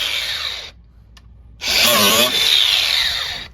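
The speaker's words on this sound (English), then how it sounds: "take this grinder and just grind them out of the way" An angle grinder whines loudly as it grinds old nails off beside a wooden floor joist, starting in a short burst, pausing briefly, then running steadily with a harsh, close metallic buzz.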